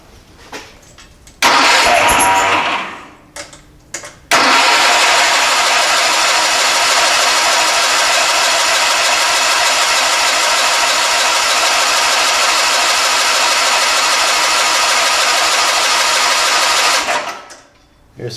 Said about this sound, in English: It's going to take some cranking to get some fuel up here.